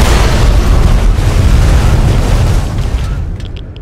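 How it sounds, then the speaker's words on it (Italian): A deep, booming explosion from the Fallout 3 video game fills the whole stretch with loud, sustained low rumble, then slowly fades near the end. "che esplosioni che ci sono da ste parti"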